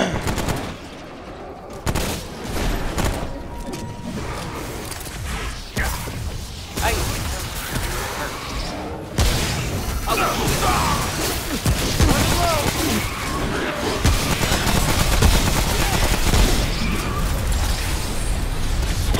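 Dense gunfire in the shooter game Remnant: From the Ashes, rapid shots and automatic bursts rattling almost continuously at close range, loud and busy throughout with layered impacts and game effects.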